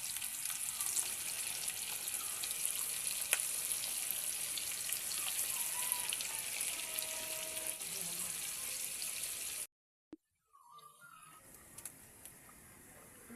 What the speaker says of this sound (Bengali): এখন ডুবো তেলের মধ্যে ছেড়ে দিচ্ছি।